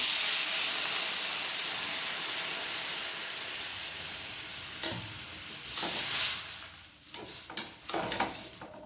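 Water added to a frying egg curry in a hot pan, a loud steady sizzle and hiss that eases off, followed by bursts of stirring and spattering in the second half.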